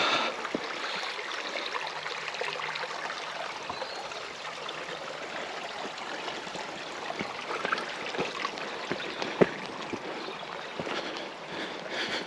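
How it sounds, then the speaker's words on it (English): A stream flowing nearby during a countryside walk, a steady rushing babble with scattered faint clicks and taps, no talking. "How cool is that stream?"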